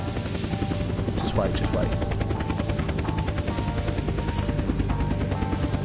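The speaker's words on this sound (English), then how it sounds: "There's a helicopter coming in as well." Helicopter in the Unturned video game, a steady loud rotor chop running throughout while voices talk over it.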